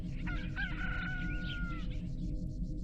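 A rooster crows once in the video game Chibi-Robo! Plug into Adventure, a clear drawn-out cock-a-doodle-doo rising and holding over a low steady game hum, with no talking.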